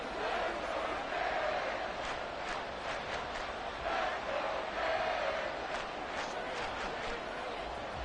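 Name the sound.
stadium crowd cheering in Madden 24 video game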